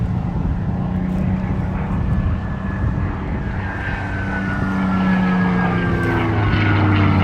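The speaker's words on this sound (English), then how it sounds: "This machine, a beautiful sound of that Rolls-Royce Merlin engine." A Spitfire's Rolls-Royce Merlin piston engine roars loudly at an air show, a sustained throaty propeller drone that rises and shifts in pitch as the aircraft passes overhead.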